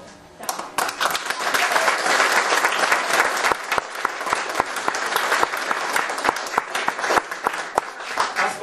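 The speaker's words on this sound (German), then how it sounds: "Das war eine einmalige Leistung und ist eine Leistung und der Applaus zeigt es, die Hochachtung von Ihnen, Frau Hein." Audience applause at a company anniversary celebration for a building-services firm, a steady dense wash of many hands clapping that swells quickly and holds for several seconds, with a few sharper individual claps standing out.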